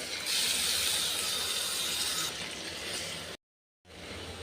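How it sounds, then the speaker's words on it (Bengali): Chopped onion frying in mustard oil in a pan for a chepa shutki bhorta: a bright, dense sizzle that fades a little midway, cuts to silence briefly, then resumes as a softer hiss, no speech. "পাত্রে দিয়ে নিচ্ছি পরিমাণ মতো সরিষার তেল দিয়ে নিচ্ছি কেটে রাখা পেঁয়াজ কুচি"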